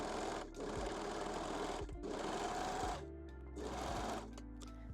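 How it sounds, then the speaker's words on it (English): Sewing machine or serger running along a lingerie seam on a bra-to-bodysuit conversion, three steady whirring runs of stitching separated by short pauses, close and clear. "And sew the seam using serger or zigzag stitch."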